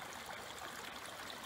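Water trickling steadily over a small garden waterfall in an English cottage garden, a continuous soft splashing wash, faint and alone without voices.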